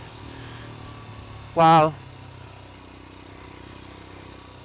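A Royal Enfield Himalayan 411 motorcycle ridden fast off-road, its engine a steady low drone throughout, with a rider briefly exclaiming over it partway through.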